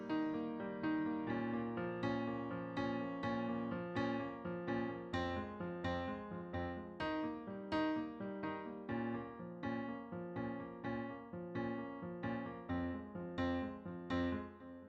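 Piano chords played with both hands in a steady, repeating rhythm, bass notes doubling the treble, each attack ringing into the next.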